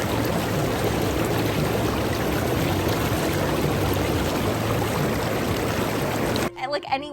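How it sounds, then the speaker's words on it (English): Loud, constant churning of bubbling water from a Saluspa inflatable hot tub fills the whole stretch, close and roaring, cutting off abruptly near the end. "The bubbles are powerful. They are very powerful, and they're a little bit loud."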